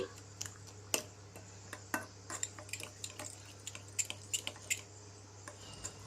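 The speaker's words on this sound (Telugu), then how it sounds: "ఇప్పుడు పెరుగు ఉల్లిపాయలు కొత్తిమీర బాగా కలిసేటట్టు బీట్ చేసుకోవాలండి" Curd being beaten with onions and coriander in a bowl, giving sharp clinks and taps of a spoon against the bowl in an irregular rhythm, close and fairly quiet, with no talking.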